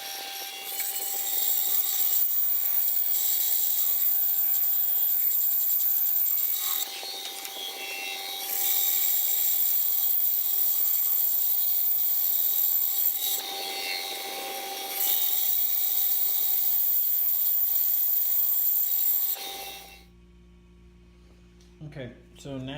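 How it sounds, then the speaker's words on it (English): A bandsaw whines steadily as it cuts wooden boards for a cutting board, with the load swelling and easing across several passes before the motor winds down near the end. "Let's get it on the bandsaw."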